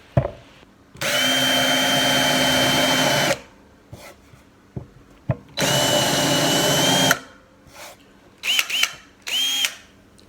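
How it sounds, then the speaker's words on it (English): A power drill countersinks a hole to seat a washer, running in two steady bursts of a few seconds each, then a few brief, sharp revving blips close by. "So I only need to countersink it just a little bit to get the washer sunk."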